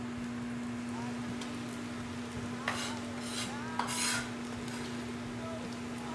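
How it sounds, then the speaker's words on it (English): A spoon stirs chopped garlic into onions simmering in a pan, making a few soft scraping strokes against the metal over a steady sizzle and a constant electrical hum. "I'm going to now put in our chopped garlic."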